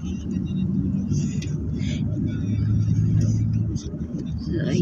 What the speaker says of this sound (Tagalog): Inabot-abot na tayo ng traffic.